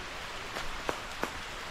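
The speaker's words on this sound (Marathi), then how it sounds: "पाऊस आला, पाऊस येतोय हे चालूच आहे कोकणात" Monsoon rain falling steadily in a Konkan village, a soft continuous hiss with a few brief louder drops or splashes, no voices.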